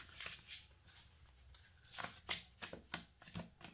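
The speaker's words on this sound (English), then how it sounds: "Right, let's shuffle." A deck of cards is shuffled by hand in a quiet room, giving soft, close riffling bursts that repeat in an uneven rhythm.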